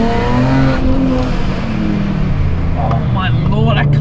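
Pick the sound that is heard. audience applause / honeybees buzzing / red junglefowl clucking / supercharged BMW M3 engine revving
supercharged BMW M3 engine revving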